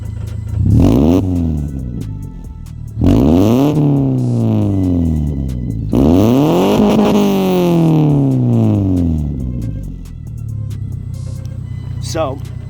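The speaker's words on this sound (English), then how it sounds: "it sounds like a Subaru, but it does not have the Subi rumble" Subaru engine with equal-length headers, idling and then revved three times, each rev rising in pitch and dropping back to a steady idle, loud and close, with a brief chirp near the end.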